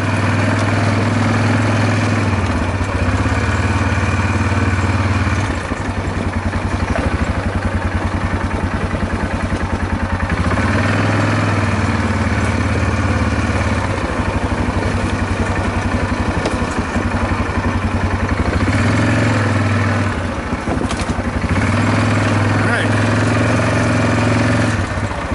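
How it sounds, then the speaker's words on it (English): An ATV engine idles loud and close, with a steady, continuous mid-pitched rumble that holds unbroken throughout, with no talk over it. "Shut the ATV off."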